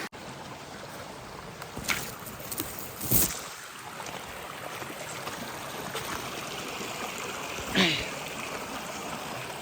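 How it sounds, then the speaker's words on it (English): A forest stream flows steadily in a continuous broadband wash, with a few brief louder splashes or knocks standing out over the running water. "Let me see where this stream will lead me to."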